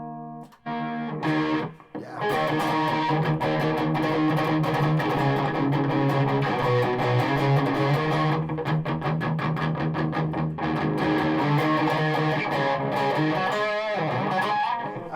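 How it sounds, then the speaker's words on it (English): BC Rich NJ series Warlock electric guitar played through an amp's distortion channel with a twin note fuzz pedal, loud sustained chords and riffs filling the stretch after a brief start, with one short spoken word near the beginning. "I'll maybe try the distortion channel on the amp."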